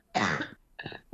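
A person coughs hard in two bursts, a long harsh hacking cough followed by a shorter, rougher one a moment later, close and fairly loud with no other talk.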